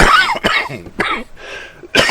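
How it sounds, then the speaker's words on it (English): A person coughs several times in quick, harsh bursts, close and loud, with brief pauses between them. "y'all are going to see me coughing or whatever"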